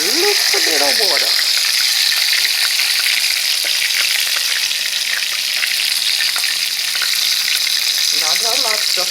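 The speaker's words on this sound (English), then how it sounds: "I'm gonna add a little bit of water." Brown stew chicken frying in a pot gives a loud, steady sizzle with bubbling and gushing after water is poured in, running the whole time, and a voice talks briefly at the start and at the end.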